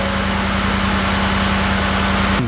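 Ford F-150 pickup with a 5.0L Coyote V8 idling steadily just after starting, a loud even low rumble with a constant hum, cutting off abruptly near the end.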